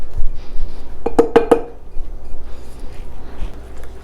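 Alfredo sauce is mixed in a dish, with three quick, bright clinks of a utensil against the dish in a tight cluster, surrounded by soft scraping and quiet kitchen handling.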